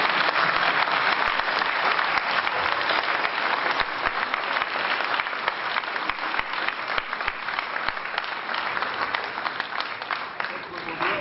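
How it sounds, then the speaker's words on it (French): A large audience applauds Santa Claus at a municipal New Year wishes ceremony in Vieux-Condé, with dense, steady clapping that fills the whole stretch at full strength. "Je vous demande donc d'accueillir et d'applaudir très fort notre Père Noël."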